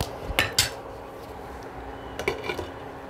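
A cooking pot being covered with its lid: two quick metallic clanks near the start, then a few lighter clinks and rattles as the lid settles, close and fairly quiet over low background hiss.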